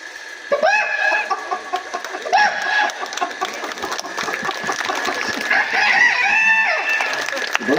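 A voice mimics a rooster crowing, with several long rising-and-falling crows in a row, loud and close, plus clucking sounds between them.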